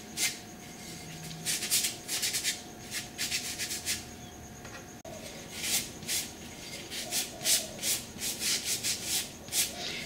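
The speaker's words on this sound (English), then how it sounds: "we'll also want to just do a light sand on the back because we'll also be painting the back." A rough-edged hanging Christmas decoration is sanded by hand, giving quiet, close, rhythmic scratchy rubbing strokes in steady bursts with no talking.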